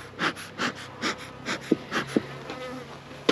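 Honeybees buzz around a stump hive while it is opened, a steady pulsing hum with a few sharper close passes near the microphone.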